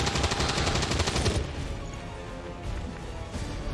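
A gunshot fired at a sectoid in XCOM 2, a loud burst of rapid crackling shots up front that gives way to quieter game ambience and rumble.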